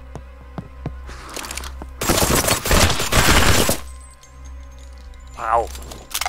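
Gunfire in the horror shooter Deathly Stillness, set in a village: a few sharp single shots, then a dense, loud burst of rapid fire, with a short exclamation from a voice near the end.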